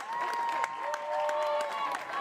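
Spectators at an Oklahoma versus UCF college softball game clap and cheer after a hard-hit two-out single, a steady crowd roar with scattered claps running under a commentator's voice.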